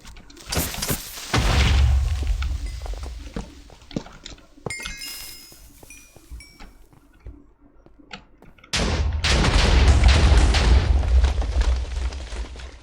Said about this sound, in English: not quite as huge of an explosion as I feared it might be